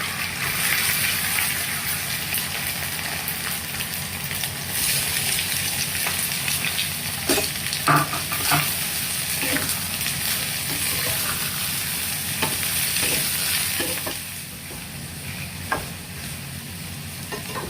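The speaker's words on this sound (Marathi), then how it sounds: "कांदा टाकलेला याच्यामध्ये परतायला." Onion sautéing in hot oil with mustard seeds and cumin, a steady close sizzle and frying hiss with occasional stirring clicks and scrapes of the spoon in the pan.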